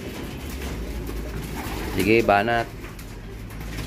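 Pigeons kept in a loft coo nearby, one clear throaty coo rising midway over a low background hum, while someone speaks briefly.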